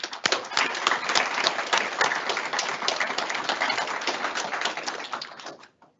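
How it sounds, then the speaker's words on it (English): An audience at a university engineering design expo applauds the team mentors, with dense sustained clapping from a crowd that fades out at the end. "let's give them a round of applause as well"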